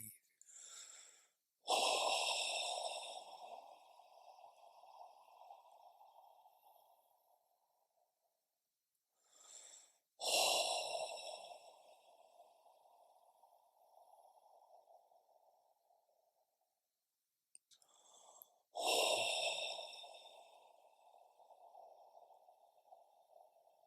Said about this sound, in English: Take 3 deep breaths out with relief.